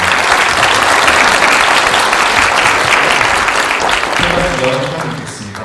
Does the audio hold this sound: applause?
yes